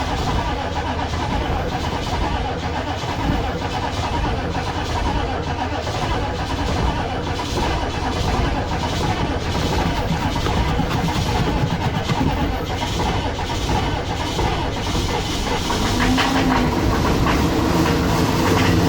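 A 1995 Chevy Suburban's 6.5L diesel, cold-started after two years sitting without glow plugs, runs with a steady, loud, rough clattering idle that continues unbroken, close by, with a voice speaking briefly over it.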